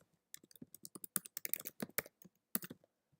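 Quick bursts of key presses on a computer keyboard while an email address is typed, irregular clicky taps in short runs with brief pauses, close and quiet with no talking.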